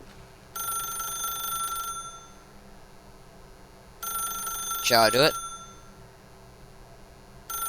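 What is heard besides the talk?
telephone ringing in The Stanley Parable video game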